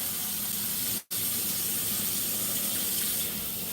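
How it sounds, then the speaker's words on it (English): Tap water runs steadily into a sink for hand washing, a close, even hiss and splash that breaks off for a split second before continuing. "wash our hands"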